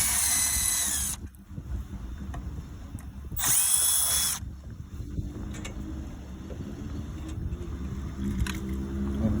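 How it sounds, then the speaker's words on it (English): A power drill backs out the screws holding a 7-pin trailer receptacle, with two loud high-pitched whining bursts close by, separated by quieter handling and rumbling background noise. "To remove it, you just extract the screws."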